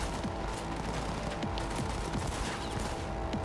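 Rapid bursts of gunfire crackle from Cyberpunk 2077, a dense fusillade of close shots layered over a constant, busy game soundscape.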